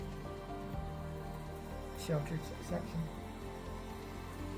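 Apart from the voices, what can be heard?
light rain falling at St Mary's Loch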